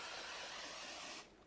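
Aerosol spray hisses onto the inner wheel arch of a BMW E46 in one continuous close burst lasting just over a second, then cuts off abruptly.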